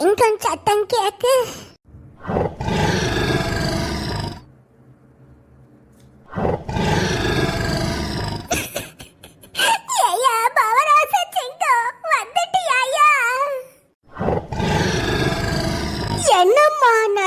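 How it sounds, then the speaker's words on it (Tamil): Deep, loud lion roars come in several long bursts separated by gaps, with voices talking between them. "சிங்கம் சத்தம் கேக்கு."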